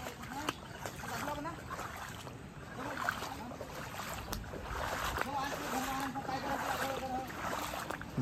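Trekkers wade through river water on a trail that runs almost entirely through the water, with intermittent splashing and sloshing steps under people talking nearby.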